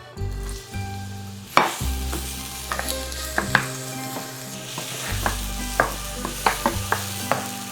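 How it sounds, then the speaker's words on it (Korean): Onions stir-fry in a spoonful of oil in a hot pan for kimchi fried rice. A close, steady sizzle runs throughout, broken by repeated sharp clanks and scrapes of a utensil against the pan. "양파를 넣어서 양파가 투명해질 때까지 볶아주도록 하겠습니다."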